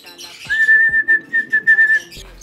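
A pigeon gives a single steady whistled call lasting under two seconds, close and clear, with a few soft clicks and rustles around it.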